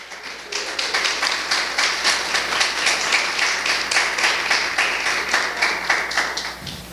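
A church congregation applauds steadily for several seconds, a dense, even wash of many hands clapping at close range with no voices on top.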